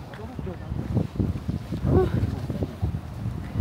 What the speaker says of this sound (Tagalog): Grabe, windy na naman guys.